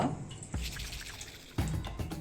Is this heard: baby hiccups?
no